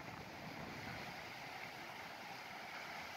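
Waves wash onto a beach on Korea's west coast in Seosan, South Chungcheong, as a soft, continuous roar of surf mixed with light wind noise, with no voices.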